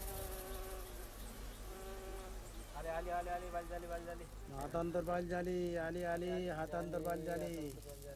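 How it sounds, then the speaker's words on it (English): Dense buzzing of bees around hives fills the background throughout, with a swelling chorus of sustained tonal voices rising over it midway. "hives dripping with bees and honey"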